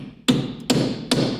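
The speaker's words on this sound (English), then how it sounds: "hammer down this thinner lip into this notch so that that nut can't come off" A hammer strikes a punch chisel against the thin lip of a Honda Civic axle nut three times, each blow a sharp metallic clank spaced evenly with a short ringing decay, close and loud.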